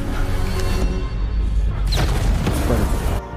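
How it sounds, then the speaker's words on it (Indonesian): A house blows up in the film Honest Thief, a loud continuous roaring boom with crashing debris and a whooshing swell, dense and close throughout with no talk. "Lalu Tom pun mulai menghitung mundur, lalu meledakkan rumah Agent Evans."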